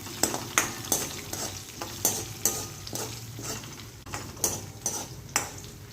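A spoon stirs and scrapes through ghens, a Gujarati porridge, in a pan with sesame tempering. The strokes are steady and rhythmic, about two per second, over a soft, constant sizzle with no talking.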